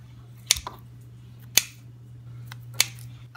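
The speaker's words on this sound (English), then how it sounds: "we are gonna take this bacon that has been smoked on my grill, and we're just gonna dice it up into small pieces" A knife dices grill-smoked bacon into small pieces on a cutting board, three sharp isolated chops spaced about a second apart, close and crisp against a quiet kitchen hum.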